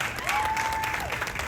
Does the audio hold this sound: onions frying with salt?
no